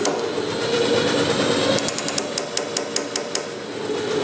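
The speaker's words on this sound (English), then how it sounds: "This one you can go all the way down to just a minimal sort of tapping, which is like for planishing." A power hammer set to a light, controllable planishing stroke taps steadily in a quick, even rhythm, the regular metallic blows standing out over a constant machine hum close by.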